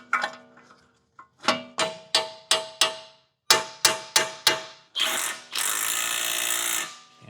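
A small impact gun drives large hub bolts on a Ford Taurus SHO, firing a run of sharp, rattling bursts with brief gaps, then two longer continuous whirs, close and loud.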